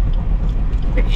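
Tire roar and low rumble from a car driving a rough, uneven road toward Batangas City, loud and steady from inside the cabin with a voice talking over it.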